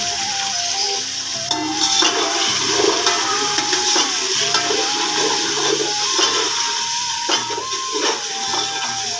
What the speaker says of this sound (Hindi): अब हम इसमें पानी डाल देंगे थोड़ा,